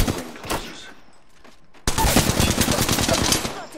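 Apex Legends gunfire, heard as a loud sustained automatic burst of rapid shots that starts abruptly after a few quieter isolated shots and game sounds.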